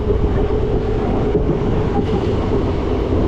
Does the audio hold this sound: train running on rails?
yes